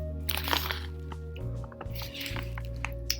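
Someone bites into and chews a crisp, cracker-like cookie, giving several loud, close crunches and crackles over a steady low hum in the room.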